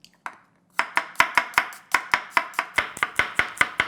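Knife chopping peeled ginger into thin matchsticks on a cutting board, a steady run of about fifteen crisp, close, sharp chops after two isolated strikes, with no talk.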